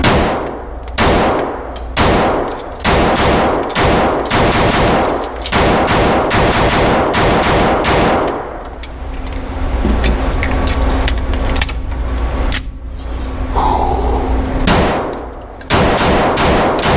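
Shots from a Staccato XC pistol fired at a target 10 yards away ring out as sharp, loud reports in an irregular string of about a dozen, spaced by short pauses with faint clinking between.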